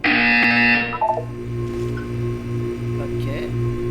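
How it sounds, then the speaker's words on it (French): A wake-up alarm buzzer from the Portal video game sounds in a loud, steady rhythm of repeated pulses over a constant electronic hum, with a higher tone opening the sequence. "Vous allez entendre une sonnerie."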